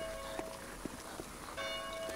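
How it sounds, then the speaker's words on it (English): A church bell rings in the DayZ video game, its faint tolls repeating over a steady hum of background ambience, with no voices present. "Do you hear church bells then?"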